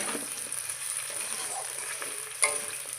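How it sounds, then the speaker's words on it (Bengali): Small cut potato pieces frying in oil in a pan, a soft steady sizzle heard up close with a brief clink partway through. "ছোটো ছোটো করে একটু আলু কেটে নিয়েছি এটাকে আগে ভেজে নিচ্ছি ভালো করে ভেজে নেব"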